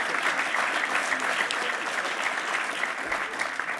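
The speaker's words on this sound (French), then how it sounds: "Donc on peut l'applaudir juste pour ça" Audience applause at a breakdance demonstration during an awards ceremony, a steady dense wash of clapping from a large crowd lasting throughout.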